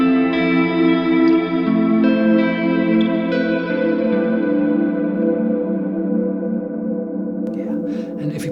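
Electric guitar through a reverb pedal set to a heavily modulated room setting, sustained chords swirling and shimmering with chorus-like wobble, loud and continuous with a long washing tail.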